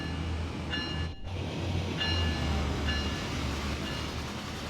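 A CN GT Heritage unit locomotive in Train Sim World 6 on the Ontario line, rolling slowly with a low steady rumble and drone, faint high tonal squeals recurring every second or so, and a brief dip in the noise.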